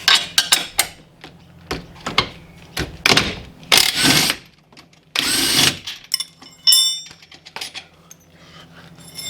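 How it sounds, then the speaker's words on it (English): Bolts on the rear suspension of a lowered Daihatsu Mira being undone with a power tool, heard as short sharp bursts and metallic clanks with pauses between them, up close. "I'm just going to undo the bottom shock bolts"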